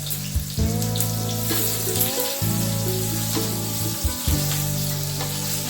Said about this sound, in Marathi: आणि कांदा भाजून घ्यायचा